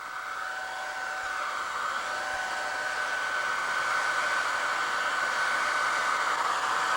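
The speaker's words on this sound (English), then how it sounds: "Now I'm just heating it with a low temperature setting on an old hair dryer." An old hair dryer on a low heat setting runs continuously with a steady whirring blow, warming epoxy, close and constant the whole time.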